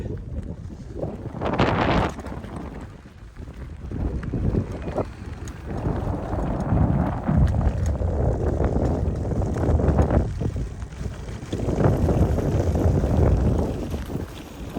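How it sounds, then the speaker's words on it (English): Strong wind buffets the microphone in a wide open space on a gravel road during an off-road ride on a Tern Link D8 folding bike, a loud rumbling roar that gusts and swells without letup. "wide open space, so it's quite windy here"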